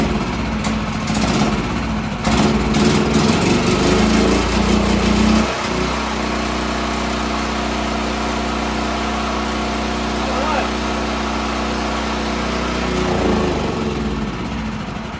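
A Powerhorse 11000ES generator converted from gasoline to run on propane starts up and settles into a steady, loud engine drone that holds throughout, with a brief stumble partway through and voices talking over it early on.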